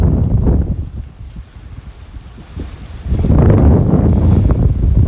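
Strong wind at a lakeside park in Mississauga buffeting the microphone in loud, rumbling gusts that ease briefly then surge again.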